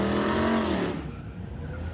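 A drag-racing car roars loudly past at a street-legal drag race, its high engine note sweeping down and fading into a distant rumble within a couple of seconds.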